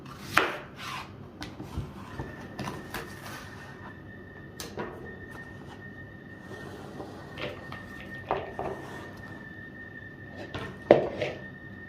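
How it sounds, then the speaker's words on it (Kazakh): Onion being finely chopped for manti filling, irregular knife taps and scraping strokes on a board at close range, fairly quiet, with a faint steady hum underneath. "Ең алдымен жуаны жақсылап майдалап турап шығамыз."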